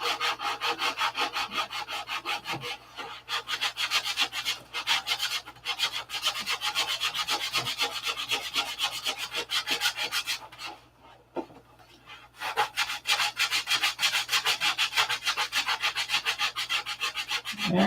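Hand sanding with 3M sandpaper in an aircraft hangar, a fast back-and-forth rasping rub held for long stretches, close and steady, with one brief pause.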